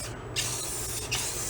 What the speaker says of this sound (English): the only purpose of me spraying this black right now, so that when you look under the car, you don't see shiny metal.